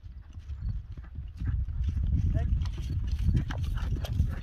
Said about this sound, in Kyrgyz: чабандес чабып кетти